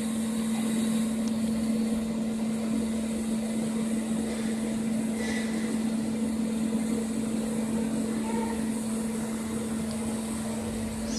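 A laboratory centrifuge spins at 13,000 RPM during cell-free DNA extraction, giving a steady, even hum with a constant whirring tone and faint background noise.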